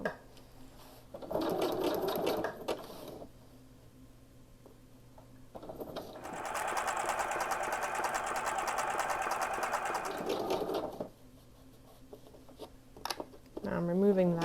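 A sewing machine stitches a journal made from an Amazon envelope in two separate runs of rapid mechanical chattering, the second longer, with quieter pauses between and a few clicks at the end; a person talks in the gaps.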